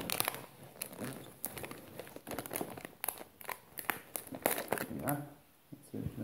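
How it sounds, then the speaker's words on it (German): A strip of packing tape is pulled and torn off the roll while boxing a shipment of beetles, with crinkling, ripping bursts heard close under someone speaking German. "Klebeband. Machen wir hier einen Streifen."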